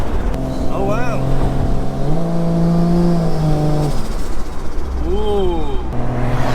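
A big-turbo 1JZ Toyota Soarer drives off, its loud engine droning and rising in pitch as it revs through gears, with people talking over it.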